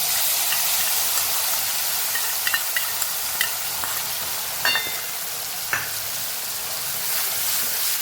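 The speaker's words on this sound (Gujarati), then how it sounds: "અને આપણે જે ચટણી તૈયાર કરેલી એનો વઘાર કરી લેવાનો છે આપણે।" Prepared chutney tempered in hot oil sizzles in a loud, continuous hiss that holds steady throughout, dotted with scattered pops and light stirring clicks close by.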